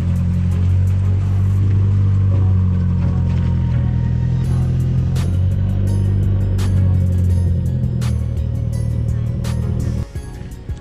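A Nissan Silvia S15 rolls into a detailing bay, its engine giving a loud, steady low rumble with a few throttle blips and sharp clicks, then cutting off abruptly near the end.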